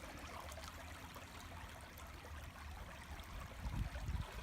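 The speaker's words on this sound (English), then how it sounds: "Nice little brook." A small brook flows through swampy woods, its faint, steady trickle and gurgle continuing quietly throughout, with a few slightly louder low splashes near the end.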